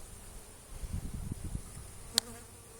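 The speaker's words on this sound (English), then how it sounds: "There's a bee with pollen in it there." Honeybees at an open hive during an inspection give a low, uneven buzz close to the listener, swelling and fading as they fly past, with a brief sharp click near the end.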